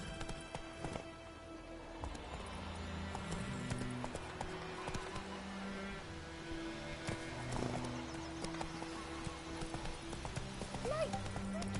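Horse hooves clip-clopping at a gallop in The Witcher 3 video game, a steady rhythmic thudding under game music and character dialogue, with a brief whinny.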